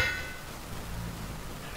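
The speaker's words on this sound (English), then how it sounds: "We are making our first tool with the held hammer." Metallic hammer clangs on an anvil while smithing a first tool in Vintage Story: one sharp ringing strike opens, a quiet pause follows, and another strike lands right at the end.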